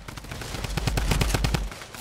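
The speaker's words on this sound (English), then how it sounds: "We're getting shot at." Rapid gunfire in the Fortnite video game, including an SMG, crackles in a quick burst of shots lasting under two seconds, sharp and fairly close with no talking.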